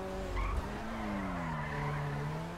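An Audi R8 in the video game GTA V accelerates with a rising engine drone and screeching tire skid, loud and continuous throughout, with no talking.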